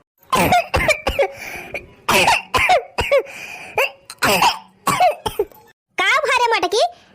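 A cartoon character coughs heavily in a series of harsh, repeated bursts with short gaps between, close and loud, ending in a strained wheezing cough.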